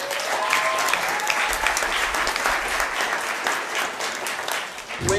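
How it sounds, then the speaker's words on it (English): Audience at a political membership meeting applauding a speaker, a loud, sustained round of clapping with a few cheers, fading slightly at the end. "Can you all give another round of applause for Dominic, please?"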